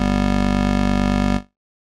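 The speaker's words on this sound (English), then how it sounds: "This is basically just a combination of a saw and a square wave" A basic Massive synth patch built from a mix of saw and square waves plays one steady, loud buzzing tone rich in overtones that holds and then cuts off sharply after about a second and a half.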